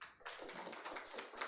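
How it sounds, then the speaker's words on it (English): Applause from a seminar audience on civil servant career development, a dense patter of many hands clapping at moderate, fairly distant level for a short burst, with no talking over it. "Round of applause."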